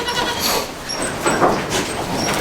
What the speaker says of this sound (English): You're a good looking goat, buddy.